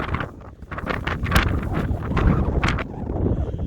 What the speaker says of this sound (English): It's so windy. So much wind.